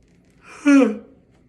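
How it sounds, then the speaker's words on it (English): A single close, breathy yawn swells up and trails off with a brief voiced groan, lasting about half a second. "I'm yawning so much"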